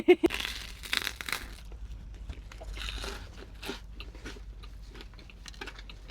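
Crunchy bites into a Walmart French bread pizza with a crisp bottom crust, made at a truck camping spot; there are sharp crunches followed by steady close chewing.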